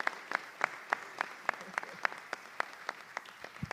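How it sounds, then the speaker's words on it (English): Sparse, evenly spaced claps ring out, a thin round of applause from a small group, fairly faint and steady in rhythm. "Let's give her a round of applause as she comes up."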